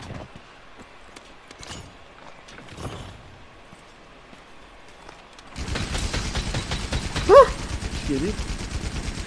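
A light machine gun fires in a video game, a rapid, dense burst of shots that starts suddenly partway through and continues to the end, after quieter scattered game sounds, with a brief spoken remark.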